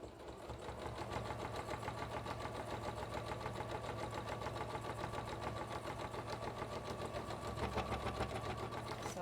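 A sewing machine stitches grey thread in a fast, even, rapid mechanical rhythm, running continuously and close at moderate volume with no talking.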